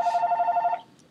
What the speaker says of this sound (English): Ugh, I hate that ringing. Our phone is annoying as well.